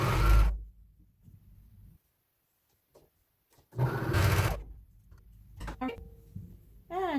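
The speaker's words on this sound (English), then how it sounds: "I'm going to run this right through my serger and just sew that right together" A serger sews a hoodie's shoulder seams in short, loud, whirring bursts separated by pauses of near silence, close by.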